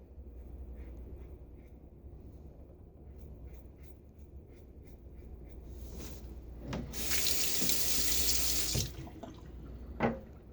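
A bathroom tap runs to rinse after a wet shave, a loud, close gush of water for about two seconds, preceded by quiet handling noises and followed by faint splashes and a small knock.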